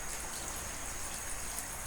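Water is poured into a cooking pot of sinigang, making a steady, close splashing rush that runs unbroken for about two seconds with no talking.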